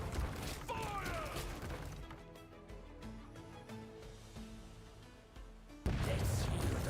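Cannon fire from ships in the pirate game Rogue Waters: a booming blast at the start, a lull of rattling and clattering debris, then another loud heavy boom near the end.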